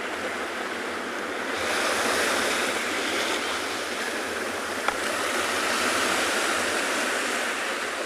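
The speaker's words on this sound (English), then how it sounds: "I feel like I'm shouting over the sound of the waves" Ocean surf breaks on a South African shore during an afternoon safari, a steady loud roar of waves washing in and out with no pause, close and continuous throughout.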